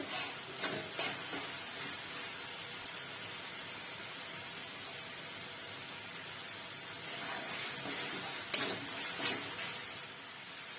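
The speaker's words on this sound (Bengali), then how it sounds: "মশলাটা সুন্দর ভাজা হয়ে আসছে, তেল ছাড়া শুরু হয়ে গেছে।" Spice masala frying in oil, a steady, soft sizzle with light crackles and occasional stirring ticks, close but fairly quiet and without talk.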